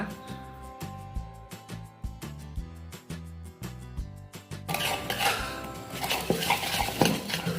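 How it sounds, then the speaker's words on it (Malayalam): Whisk beating flour into banana cake batter in a bowl, rapid rhythmic clinks of metal against the bowl that turn into a busier, scraping mix in the last few seconds, no voices. "നമ്മുടെ വിസ്ക് ഉപയോഗിച്ച് നന്നായിട്ട് മിക്സ് ചെയ്യുക"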